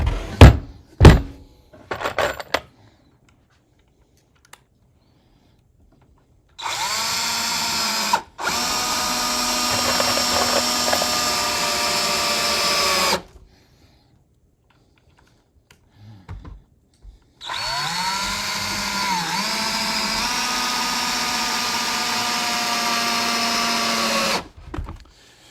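A power drill driving screws into a wooden beehive stand in a workshop, two long loud sustained whirring runs separated by a pause, with a few knocks and clatters before the first.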